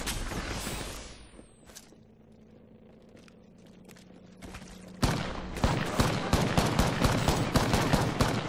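Rapid automatic gunfire in the video game Apex Legends, a loud dense burst that starts after a quieter stretch and keeps up for several seconds, with an earlier short volley at the start.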